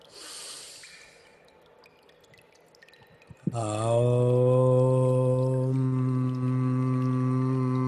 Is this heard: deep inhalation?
yes